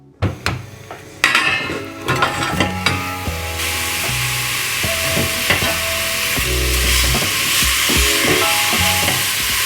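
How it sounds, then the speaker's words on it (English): Meatballs sizzle steadily in a frying pan, with a broad continuous fry hiss building up after a few clinks and knocks of a utensil against the pan; no talking. "Just gently fry them for around 4 to 5 minutes."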